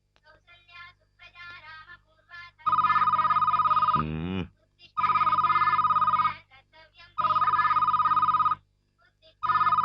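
An old-fashioned telephone rings in a home, sounding as repeated loud electronic trill bursts with short gaps between them, while people chat faintly underneath.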